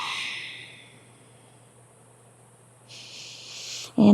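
In a yin yoga session, a slow, deep breath is heard during cat pose. It rises to an audible exhale, fades into near silence, then swells into a second breath, close and soft, ending in a brief bump.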